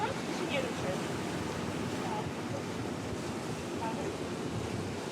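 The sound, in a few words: waves from the wake behind an electric superyacht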